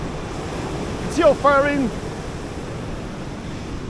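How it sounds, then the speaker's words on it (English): Ocean waves wash against the shore in West Cork, Ireland, a steady broadband roar with wind buffeting the microphone, while someone speaks briefly over it. "The waves here are very unpredictable"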